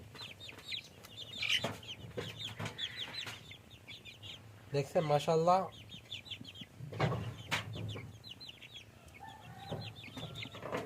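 American Brahma chickens, a rooster and several hens, cluck and squawk close by in repeated short bursts, with one louder flurry of calls in the middle, while someone speaks between them.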